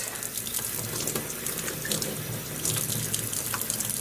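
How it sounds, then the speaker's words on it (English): Warm water runs steadily from a faucet into a sink, splashing down into the drain with a continuous hiss and no talking. "I'm just running some warm hot water. You can see it's splashing a little bit down in the drain."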